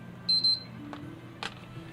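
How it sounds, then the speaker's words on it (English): A PS3 Slim console gives two short high-pitched beeps in quick succession, clear and close over a quiet hum, followed by faint clicks. "Double beep."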